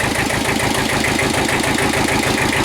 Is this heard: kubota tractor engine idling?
yes